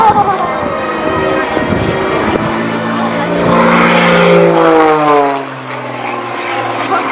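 An Extra 330 German-designed aerobatic plane from the air force aerobatic team roars at the Verdun air show, a loud, steady propeller drone that shifts in pitch as it passes, under commentary and crowd talk.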